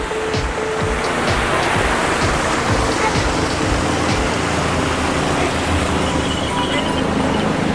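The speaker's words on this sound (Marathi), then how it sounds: "हे बघा साईडनं झरा वाहायला लागलाय" A mountain stream rushes beside the Kedarnath trail in the Himalayas, a loud, steady broadband roar of flowing water heard close and continuous throughout.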